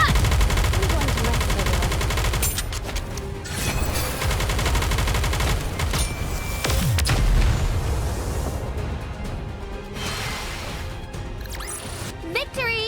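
Heavy bombardment from a Nikke battle: dense, continuous gunfire and machine-gun bursts with booming explosions, loud and close throughout, with a voice speaking over the barrage.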